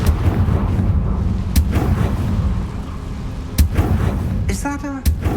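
A Confringo fire spell cast in Hogwarts Legacy bursts in a few sharp, loud booms over a rumbling game background, with a brief ringing chime near the end.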